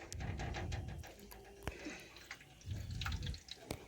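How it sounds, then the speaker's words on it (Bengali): Starchy water from freshly washed rice is poured off into a sink, a splashing liquid gush that comes in two bursts with a few small drips and clinks in between. "ওই জলটা কিন্তু দেখুন আমি ফেলে দিচ্ছি"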